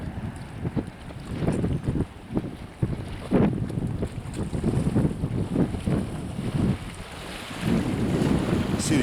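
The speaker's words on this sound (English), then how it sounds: "see the impact of that strange vessel that just came by, kicking up the waves quite a bit" Waves slap and wash against the causeway along the bay after a boat passes, a choppy irregular splashing heavily buffeted by wind noise, with no talk.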